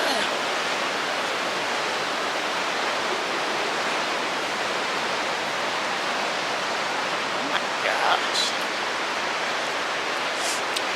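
Rushing water roars steadily and loudly through the whole stretch, a dense wash of noise, while someone briefly exclaims near the end.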